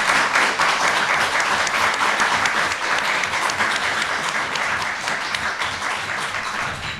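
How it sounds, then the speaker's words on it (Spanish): Sustained, loud applause from a live audience at a talk show recording on Vigo's Roman past, a dense steady clapping wash that holds for the whole stretch and tapers only slightly toward the end. "Un aplauso fortísimo por ti"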